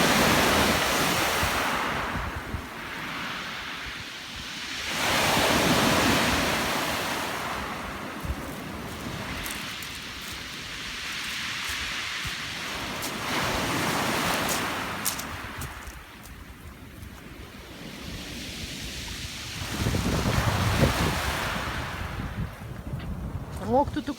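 Black Sea surf rolling onto the beach at Anapa in October, with waves breaking in broad surges every few seconds amid wind noise, and people chatting faintly in the background.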